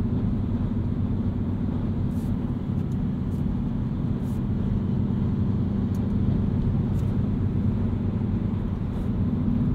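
A 2022 Mini Cooper S manual two-door hatchback cruises steadily, giving a continuous low road and engine rumble with tyre noise that stays even throughout, heard from inside the cabin with no talking.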